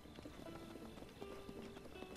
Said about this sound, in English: Might as well just catch a horse while we're here.